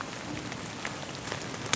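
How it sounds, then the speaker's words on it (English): Steady rain falling on a canoe trip, pattering continuously on nearby surfaces as a dense hiss, with a single sharper drip near the end and no voices. "It's still raining and thunder, but still no lightning."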